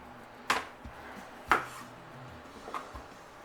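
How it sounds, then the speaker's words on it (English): A knife slices zucchini into quarter-inch rounds on a cutting board: three distinct crisp chops about a second apart, the last one softer, close and clear with no talk. "we're going to slice these about 1/4 inch thick as well"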